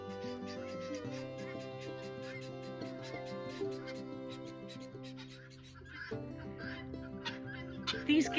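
Layered guinea fowl calls with a busy, chattering texture, fairly close and steady, with a brief dip before the calling picks up again loudly.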